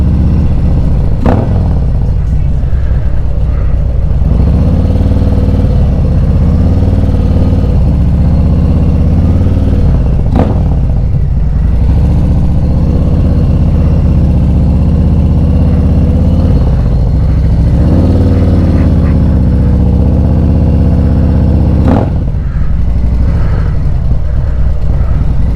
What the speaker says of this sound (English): my boy B Nasty back on his bike, baby.